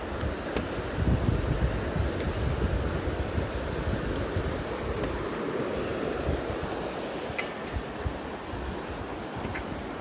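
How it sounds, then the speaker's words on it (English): South Platte River on the Colorado Trail rushing steadily as a broad, close wash of flowing water, with some wind buffeting the microphone and no voices. "here we are, back on the South Platte River"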